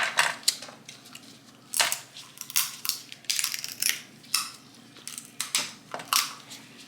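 Snow crab leg clusters being cracked open by hand during a seafood meal, with repeated sharp snapping crunches arriving in irregular bursts, close and loud, with no talking.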